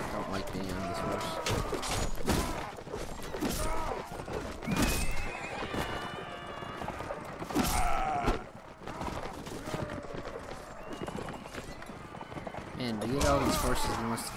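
Horses in the Mount & Blade Warband video game whinny repeatedly over clopping hooves in a busy, continuous game soundscape, with someone talking throughout.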